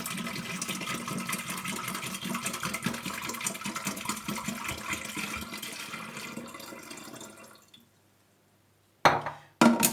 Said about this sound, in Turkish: Şöyle 1 litre kadar içine su ilave edeceğim.